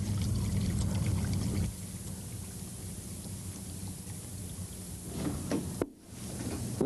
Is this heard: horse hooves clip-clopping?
no